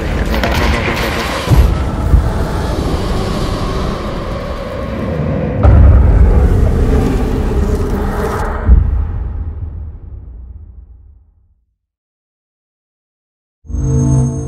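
Heavy gunfire and booming blasts in the video game Hunt: Showdown: a dense, loud barrage with several big impacts, then the sound fades to silence before a short burst returns at the end.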